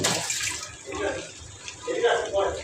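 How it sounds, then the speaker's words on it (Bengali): Water poured into a pan of cooking fish curry, a close splashing, gushing pour lasting a couple of seconds, with a voice speaking briefly over it. "এখন পানিটা দিয়ে দিলাম।"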